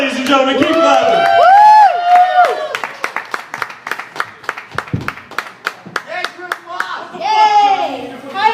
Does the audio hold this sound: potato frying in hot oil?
no